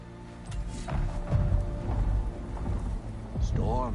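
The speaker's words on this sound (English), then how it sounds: "Storms are coming." Thunderstorm in the video game Ragnarok: low rumbling thunder and a bed of rain, with swelling rolls of thunder and a brief voice-like tonal sound near the end.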